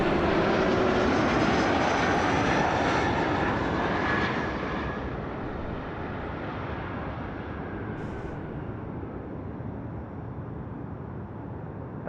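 An airliner takes off from runway 33 left at Toronto Pearson airport, a loud broad jet roar that is strongest at first and then eases as it climbs away, no talking.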